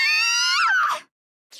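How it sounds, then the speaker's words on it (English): A single loud, high scream from a character in the video game The Hundred Line: Last Defense Academy, rising then breaking off abruptly into silence, with a brief new sound starting at the very end. "All of a sudden, I could hear screaming."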